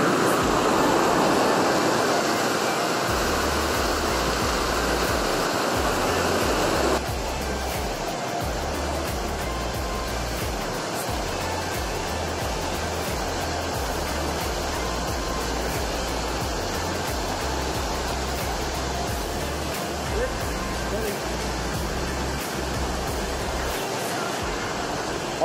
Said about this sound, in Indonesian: Pertemuan dua arus sungai.